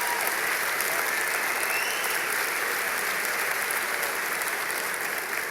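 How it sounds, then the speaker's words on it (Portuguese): A church congregation applauding in praise, dense continuous clapping filling the room at an even loudness throughout, with no voices standing out. "Pode aplaudir ao Senhor."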